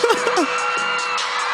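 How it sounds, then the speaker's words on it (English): A crowd cheers and whoops during a guitar solo, a bright, distant wash of voices heard through playback, with a few shouted whoops near the start over a sustained guitar note. "What are they cheering for?"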